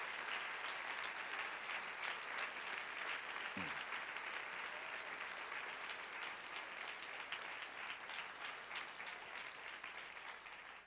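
Congregation applauding during a Spanish-language church service, a steady, moderately faint wash of clapping that continues evenly throughout without talk.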